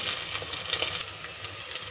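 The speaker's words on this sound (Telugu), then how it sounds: "ఇక్కడ ఉల్లిపాయ ముక్కలు వేగుతున్నాయి" Chopped onions fry in a pan with a continuous crackling sizzle and a few sharper pops, close and moderately loud, with no voices over it.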